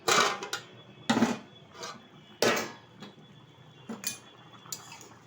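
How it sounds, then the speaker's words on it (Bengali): A metal lid comes off a cooking pot of rohu fish curry with yam, giving several sharp clinks and clatters spaced over a few seconds, close and fairly quiet. "ঢাকনাটা তুলে দিচ্ছি।"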